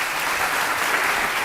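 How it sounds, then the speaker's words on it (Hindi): Studio audience applause for a Hindi television courtroom show, an even, sustained wash of clapping filling the whole brief stretch. "और ये तालियां बजते रहे"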